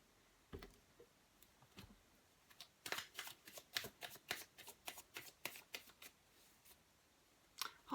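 Tarot cards are shuffled in a quick run of soft, close riffling flicks, bracketed by a few isolated card snaps and taps as cards are drawn, faint and without talking.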